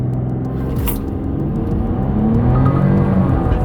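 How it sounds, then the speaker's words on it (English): A 2026 Porsche Cayenne E-Hybrid launching hard under launch control, its engine rumbling loud and close as the tone climbs steadily through acceleration, with no talk. "We put the brake all the way to the ground, hit the gas, launch control active."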